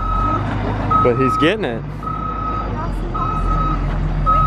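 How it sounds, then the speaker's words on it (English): A bus reverses toward a shed in a tight spot, its steady reversing alarm beeping repeatedly in a regular on-off rhythm over a low engine rumble, with a voice talking briefly in the middle. "He's backing up to the shed."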